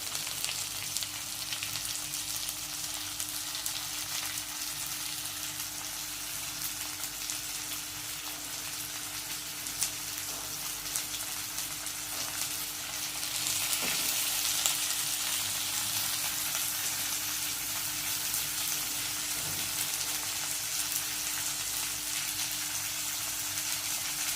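Stuffed bitter gourd (karela) roasts in a pan over a low gas flame, giving a steady, soft, continuous sizzle that swells slightly midway, with no talking.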